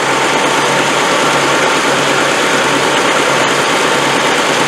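A steady V8 engine idle in a 1985 ex-NATO Land Rover 110 with a suspected overheating fault, loud and close, with a constant low rumble and broadband roar throughout and no change in pace.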